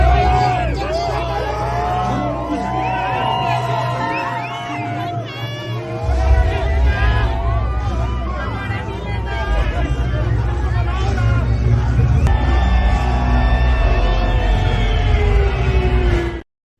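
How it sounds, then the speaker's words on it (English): A wrestling show crowd cheering steadily, a dense roar of voices and shouts heard throughout as a played-back recording, with a louder surge partway through. "That crowd sounded awesome too."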